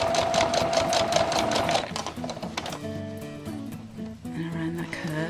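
A sewing machine stitches an apron with a fast, steady mechanical whir of rapid needle strokes that slows into a lower, uneven hum partway through, with a voice speaking over it.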